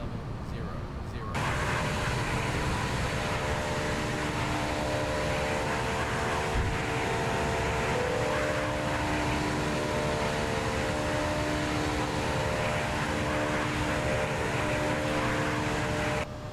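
Jet engines of a JAR A320 airliner in the X-Plane 11 flight simulator with a new sound pack, a steady loud droning roar holding throughout after a brief quieter opening second.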